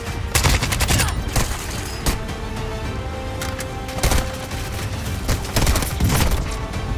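Repeated bursts of assault rifle fire in a first-person shooter video game, sharp rapid volleys loud and close with brief pauses between them, no talking over the shots.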